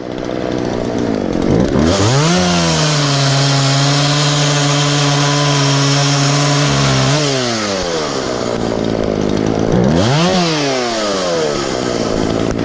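A Husqvarna 136 chainsaw engine, just after a carburetor rebuild and adjustment, runs loud and close, revving up to a high steady scream, dropping back to idle, then revving again.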